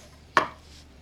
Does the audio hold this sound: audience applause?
no